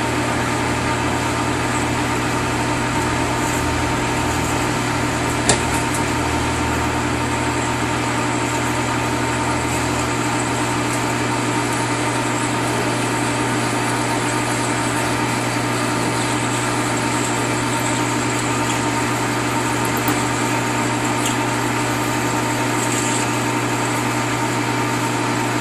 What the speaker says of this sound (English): I back my tailstock up to 1/2 inch, and I'm going to drill out to 1 inch deep